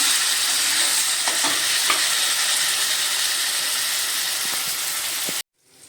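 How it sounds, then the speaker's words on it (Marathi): Chopped roasted eggplant stirred in a frying pan, a steady loud sizzle with occasional scrapes of the spoon, cutting off abruptly near the end. "त्याच्यामध्ये आपण आता हे बारीक केलेला वांग टाकूया मिक्स करूया"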